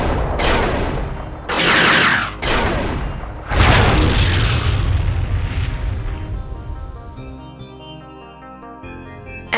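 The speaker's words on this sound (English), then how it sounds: "Enemy mech destroyed." An enemy mech is destroyed in the MechWarrior 2 video game, heard as several loud, close explosive blasts and rumbling booms that fade into a lower, quieter tail.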